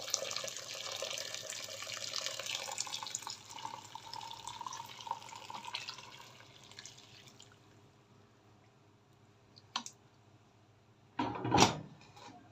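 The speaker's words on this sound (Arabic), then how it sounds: "وادي المية المغلية بتاعتنا، بسم الله." Boiling water pours into a pot of fava beans seasoned with paprika, turmeric and lemon juice. A steady hissing splash fades out over several seconds, followed by quiet, a brief knock and a louder clatter near the end.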